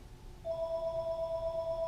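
A phone rings with a steady electronic tone that starts partway through and holds continuously, moderately loud over faint background noise.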